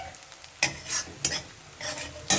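Gugni ingredients for the Nabomi dish sizzle in hot oil while a spoon stirs them in four distinct scraping sweeps, close and clear, with no one speaking.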